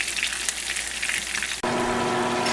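Chicken nuggets frying in hot oil, a steady loud sizzle that briefly drops out and then returns fuller and denser, with no voices.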